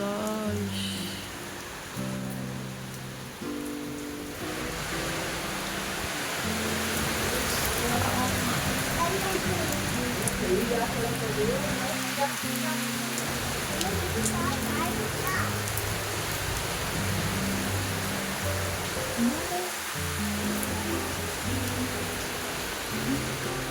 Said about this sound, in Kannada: ಮಳೆ ನೋಡಿ ಹೆಂಗೆ ಬರ್ತಿದೆ ಅಂತ ಇಲ್ಲಿ